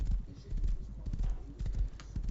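Horse hooves clip-clopping in the survival video game Rust, a rapid irregular patter of soft thuds at moderate distance, with no talk.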